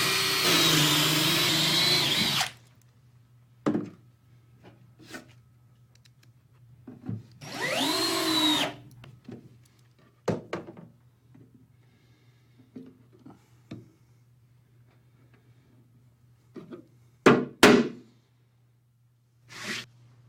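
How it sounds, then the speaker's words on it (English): Wood deck board being drilled, screwed, glued and plugged with the Starborn SmartBit Pro Plug system: two loud power-drill bursts, then scattered taps, clicks and handling knocks, and a final pair of sharp knocks near the end. "I just drilled, screwed, glued, and plugged this deck board in less than 20 seconds"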